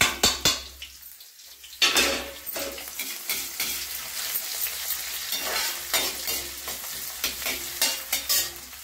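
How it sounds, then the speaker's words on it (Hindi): Onions hit hot oil with cumin seeds in a pan, bursting into loud close sizzling that settles into continuous frying, broken by repeated stirring scrapes and utensil clinks, with no voices. "और ये प्याज डाल दें।"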